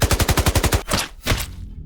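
Rapid gunfire rattles out in a fast, loud burst of evenly spaced shots, then breaks into a few heavier separate blasts before cutting to silence, close and alone.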